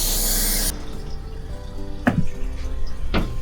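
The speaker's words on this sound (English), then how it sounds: "Hugh's topping up the water. Turn it on." Water from a tap gushes loudly into a canal boat's tank, a strong broadband rush that cuts off, followed by quieter trickling and a couple of brief knocks.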